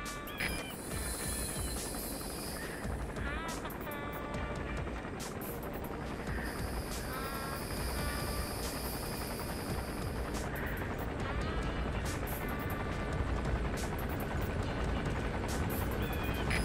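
A helicopter lands in the video game Metal Gear Solid V, its rotor throbbing as a steady, loud, continuous drone with rumbling low end, accompanied by intermittent electronic beeps and game sounds.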